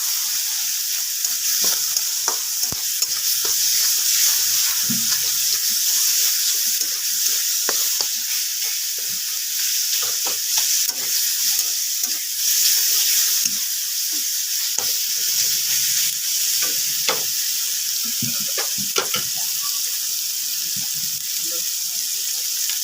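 Fish curry (moa mach chorchori) frying in a pan, a loud continuous sizzle with scattered clinks and scrapes from steady stirring, no talking.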